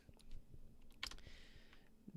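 Quiet computer keyboard typing during a live stream, a few soft irregular key clicks and taps close by with one brighter clack in the middle.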